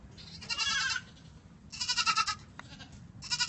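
Baby goat kids bleat in three bursts, close and fairly loud, with quiet pauses between the calls.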